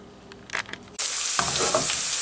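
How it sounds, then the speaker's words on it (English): Garlic and sliced onions hit hot extra virgin olive oil for Filipino pancit, starting a sudden loud, steady sizzle after a few quiet clinks, with stirring scrapes beneath the hiss. "I added some extra virgin olive oil, garlic, and some of the slice of onions."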